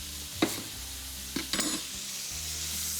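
Rocket leaves being stirred into a hot frying pan with big prawns to follow, a soft steady sizzle underneath with a few sharp scraping stirs near the start and middle.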